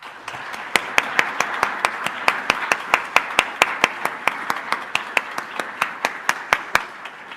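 A small gathering at a university employee recognition ceremony gives a sparse, steady clapping for faculty marking five years of service, with individual sharp claps ringing out at an even rhythm for about seven seconds.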